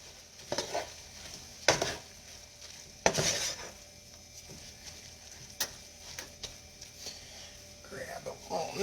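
Spaghetti squash and mushrooms stirred together in a pan, giving a few sharp utensil scrapes and clinks over a faint sizzle, close and intermittent.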